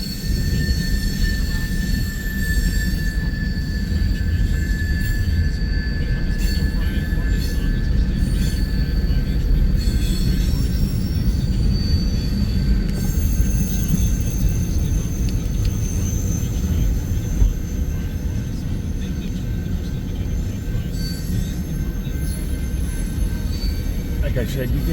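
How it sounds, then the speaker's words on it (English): A freight train on a BNSF line in Iowa or Nebraska rolls past with a loud, continuous rumble, and faint high wheel squeal persists over the whole passage. "this train had to wait for the eastbound California Zephyr to get through"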